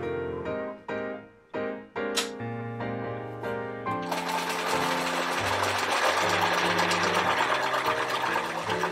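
A sewing machine stitches quilt pieces, starting with a few short separate bursts, then settling into a continuous fast rhythmic whir and clatter, close and moderately loud, with no talking.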